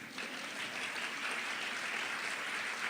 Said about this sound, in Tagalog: Pumapalakpak ba kayo niyan?